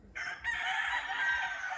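A gamefowl rooster kept for cockfighting gives a single sustained crow, fairly faint and alone, with a brief break near the start before the call swells and holds.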